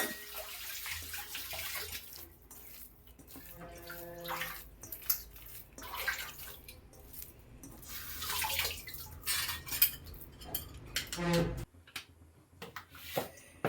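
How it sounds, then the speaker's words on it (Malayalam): Water splashes and trickles into a metal idli steamer for a few seconds, with faint clinks and handling noises; pouring stops near the end. "ഇഡലി പാത്രത്തിൽ വെള്ളം വെക്കട്ടെ"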